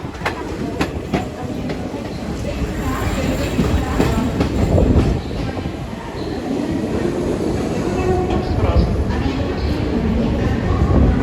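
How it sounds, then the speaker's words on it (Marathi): Rajyarani Express climbs through Kasara ghat hauled by WAG7 locomotives, a continuous loud rumble of wheels and carriages with rhythmic clacking, while people talk over it. "मस्त कसारा घाटामध्ये आपलं एंटर झालेली आहे रेल्वे"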